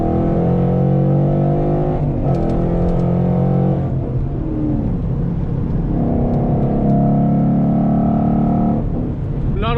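A 2014 Ford Mustang GT V8 accelerates, heard from inside the cabin as a steady engine drone that climbs through the gears in several rising sweeps, with a voice talking over it.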